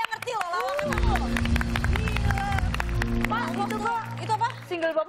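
A television studio audience claps and cheers throughout, a dense wash of applause under a host's loud speech and background music, with laughter and voices rising in the final second.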